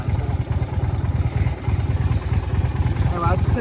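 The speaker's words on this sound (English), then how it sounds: "you can spray it and you hear the bike idle" A 1994 Yamaha motorcycle engine idles steadily up close, its low pulsing throb running continuously with a brief sharper mechanical rattle near the end.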